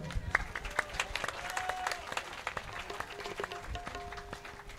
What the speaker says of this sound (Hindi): अब मैं आप सबों के लिए ताली बजाता हूँ।